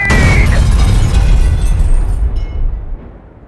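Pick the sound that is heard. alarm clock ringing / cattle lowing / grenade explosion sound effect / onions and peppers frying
grenade explosion sound effect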